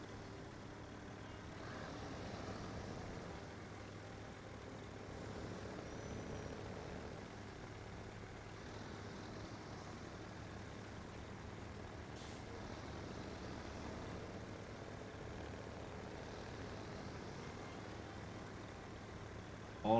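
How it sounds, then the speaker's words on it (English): A truck towing a bumper-pull trailer in SnowRunner on hard mode gives a steady, low engine rumble that drones on without a break, fairly quiet and with no talking over it. "that is an engine rumble"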